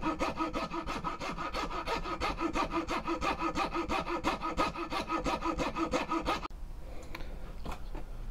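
A homemade knife handle is sanded by hand in steady back-and-forth strokes, a close and rhythmic scratchy rasp that continues for several seconds before turning quieter and more sporadic, with no one speaking.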